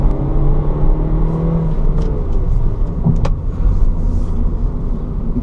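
Engine of a 2018 VW Golf Variant Highline pulling steadily, a continuous broadband road and engine rumble heard from inside the car at a constant, fairly loud level with no talking.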